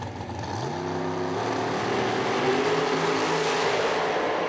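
A drag racing dragster engine revs hard at a winter nationals event, loud and close, its pitch climbing and holding at a steady roar with no talking over it.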